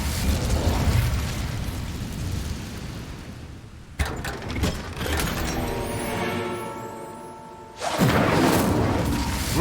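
Fire spell cast in the Hogwarts Legacy video game, a sustained roaring whoosh, then a sharp impact and crackling burst, ending in another loud roar of flame.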